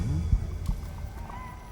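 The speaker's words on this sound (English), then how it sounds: "I meant to take the horse out for a ride, so get on." A horse in the video game The Thaumaturge clops with a few hoof beats and gives a short whinny, brief and fairly close.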